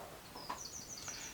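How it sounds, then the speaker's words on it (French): Birds chirping outdoors, a few faint high calls heard at a distance over low background ambience. "On entend les oiseaux."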